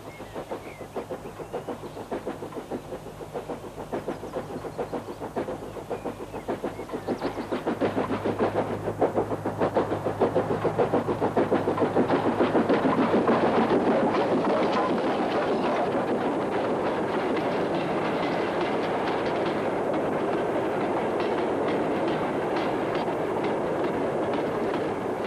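A British Austerity steam locomotive pulls a light freight train out of a yard in the 1960s north-east, a steady rumble and rolling clatter of wagons building louder then holding.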